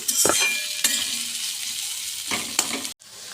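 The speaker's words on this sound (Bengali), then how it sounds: "পেঁয়াজটাকে হালকা করে হালকা লাল করে ভেজে নেব আর ওর সঙ্গে কটা মরিচ দিয়ে দিয়েছি" Sliced onions and a few chillies sizzle steadily in hot oil while lightly browning, with a few sharp utensil knocks and stirring scrapes breaking through the continuous close frying hiss.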